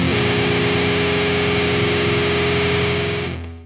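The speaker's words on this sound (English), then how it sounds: "adding in a major, or worse yet, a minor third to a sufficiently distorted power chord can be enough to muddy up the sound" A heavily distorted electric guitar power chord with an added third rings out loud and sustained, thick and muddy with clashing dissonance, held for a few seconds before cutting off abruptly.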